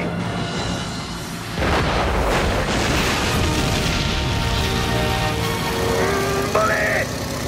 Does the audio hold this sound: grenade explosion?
yes